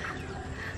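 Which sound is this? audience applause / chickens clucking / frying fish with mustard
chickens clucking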